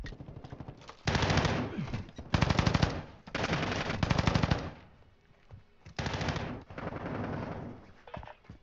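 Hip-fired automatic gunfire in Call of Duty: several long, loud rapid-fire bursts separated by short pauses, dense and continuous within each burst.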